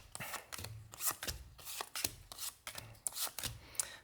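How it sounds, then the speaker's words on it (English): Tarot cards being pile shuffled give quiet, irregular taps and slaps as each card is dealt out into separate piles, a soft, close sequence of about a dozen light hits. "But secondly, start pile shuffling them."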